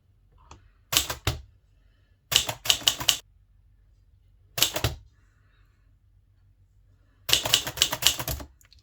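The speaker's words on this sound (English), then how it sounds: "Hope you enjoy me typing away on this Alder Tippa." An Alder Tippa typewriter is typed on in separate bursts of rapid, crisp key strikes, each burst followed by a pause, close and clear with no talk.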